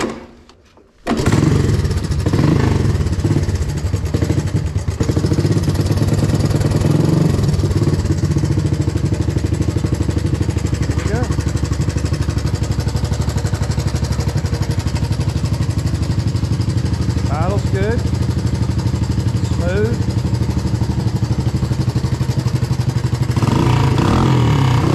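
Honda ATC three-wheeler engine cold started with choke on, catching after a brief crank and then running continuously at a loud, steady, rattly idle close by for over twenty seconds.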